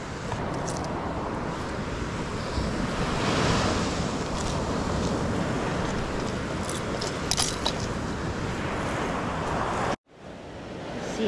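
Ocean surf rolls steadily onto a Florida beach at Stumps Pass after Hurricane Ian, a loud, continuous wash of breaking waves with heavy wind buffeting the microphone and a brief dropout near the end.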